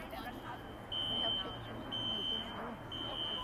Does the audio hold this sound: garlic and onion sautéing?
no